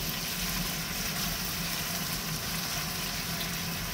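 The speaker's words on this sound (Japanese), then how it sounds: "ここで強火で混ぜていきます" Chicken tossed with a seasoning sauce over high heat in a pan, giving a constant dense sizzle and hiss, steady and close with no talking.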